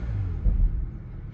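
A low Bentley Bentayga W12 engine rumble idles steadily, swelling briefly as if revved, heard from inside the car with no one speaking.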